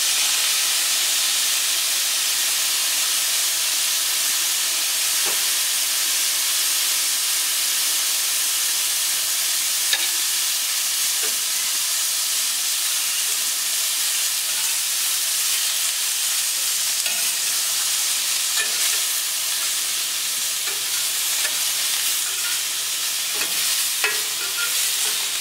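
Potatoes and pattypan squash sizzle and steam steadily in a pan after a splash of water, a dense continuous hiss with faint stirring clinks, alone and without talk.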